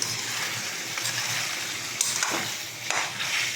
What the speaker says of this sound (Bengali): ভালো করে কষাবো আমি।